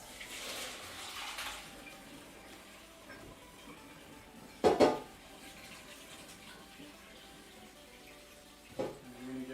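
Running water from a tap splashes over cooked noodles draining in a kitchen strainer, a soft hiss with two brief louder gushes, heard alone with no one speaking.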